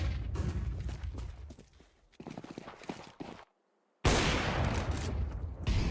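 Bursts of gunfire in a Counter-Strike match on the Dust2 map, loud and dense, with rapid shots clustered before a brief silence and then a sustained heavy volley.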